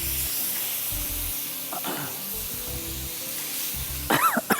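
Steady sizzling hiss of spices and tomatoes cooking in a pan, close by, with soft music underneath and a brief whistle-like tone near the end.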